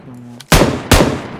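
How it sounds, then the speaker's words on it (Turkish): Two sharp gunshots crack in quick succession, loud and close, in the battle-royale game PUBG Mobile on the Erangel map, each followed by a short echoing decay, with a faint voice just before. "Şu silah sesleri niye böyle?"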